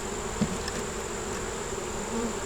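Bees swarm over a hive frame during an inspection, a close, steady buzzing hum with a few brief louder passes of individual insects and no voices.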